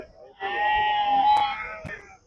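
A sheep at the Chillakallu sheep and goat market gives one close, loud, drawn-out bleat lasting over a second, with a couple of short knocks around it.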